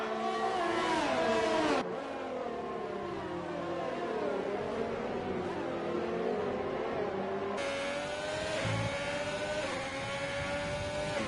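A Formula 3 race car at a Canada round of a sim racing league screams through the gears, its engine pitch climbing and dropping with two sharp upshift cuts, loud and steady throughout.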